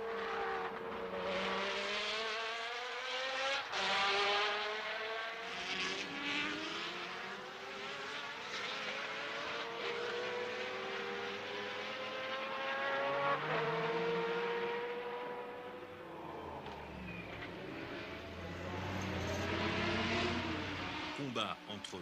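Race cars at the 1991 24 Hours of Le Mans, including a Porsche and a Mercedes, scream past one after another with rising and falling engine pitch, loud and continuous, some passing close and others farther off.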